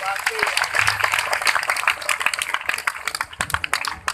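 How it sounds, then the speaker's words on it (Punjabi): At an annual fair at a shrine in Talwara, a crowd claps hands for sisters on Raksha Bandhan, a rapid, crackling patter of many claps that builds and then thins toward the end. "ਭੈਣਾਂ ਵਾਸਤੇ ਤਾੜੀਆਂ ਮਾਰੋ ਇੱਕ ਵਾਰੀ"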